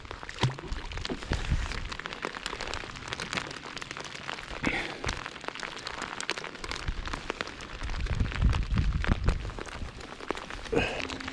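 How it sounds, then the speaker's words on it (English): Heavy rain pours down outdoors at a fishing spot, a dense, steady hiss of drops with scattered sharper impacts and some low rumbling throughout, with no one talking. "It's literally freaking pouring down rain out here"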